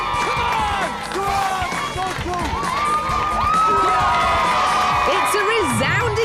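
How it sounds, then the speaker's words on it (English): A crowd at a scrap-built dragster race cheers and shouts continuously, a loud, dense roar with whoops and children's voices, while a commentator talks over it. "if that got the crowd excited, the decibels are about to go through the roof"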